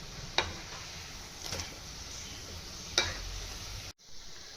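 Egg bread patties sizzle steadily in hot oil, a continuous fine crackle with a few sharper pops and spits, close by and alone, cutting out abruptly near the end.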